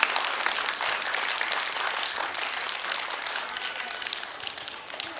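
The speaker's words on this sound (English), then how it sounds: "I want to hear the clapping very loudly" A large graduation-day crowd of about ten thousand claps loudly and continuously, a dense roar of applause that holds steady and eases slightly toward the end.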